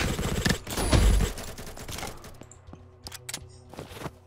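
Another player's gun firing in a video game, a loud rattling burst of rapid shots followed by sparser sharp cracks and clicking game sounds, no speech.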